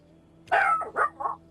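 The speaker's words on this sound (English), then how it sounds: "Now there goes my dog." A dog gives a quick pair of short, close barks, then a softer yip at the end, all inside a second and a half.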